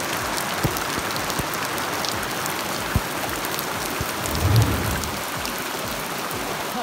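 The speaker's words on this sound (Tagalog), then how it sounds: "talaga namang inabot na naman ang ulan" Heavy outdoor rain in Tayabas, Quezon, a loud, dense, steady hiss of drops on surfaces with a brief dull thud partway through and a low rumble swelling near the end.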